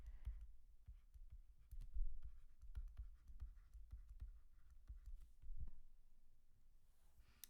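Pen or stylus writing out a chemistry equation for a Hess's law example, quiet scratchy strokes and light taps in an irregular rhythm, close and faint, with no talking.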